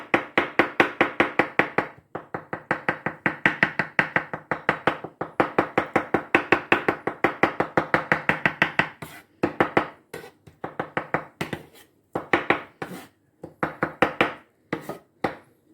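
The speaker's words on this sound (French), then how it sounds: "pour la tomate, c'est pareil. C'est mieux de la découper comme ça," Rapid, steady knife chops cutting a tomato into small pieces on a board, loud and close, with short pauses between bursts of rhythmic strokes.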